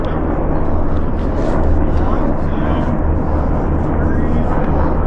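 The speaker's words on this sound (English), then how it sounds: "Those are like some army helicopters or something." Several black army helicopters fly overhead and produce a continuous loud low rumble and drone that holds steady throughout.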